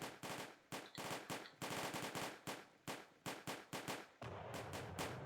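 Musket volleys in the Napoleonic Wars strategy game Combat Directive crack out as a rapid series of loud, sharp gunshots in uneven bursts, with some reports overlapping into continuous rattling fire.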